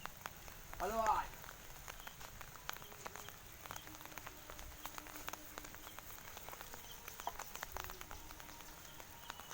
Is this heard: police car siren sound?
no